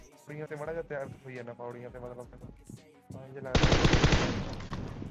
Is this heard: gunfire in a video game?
yes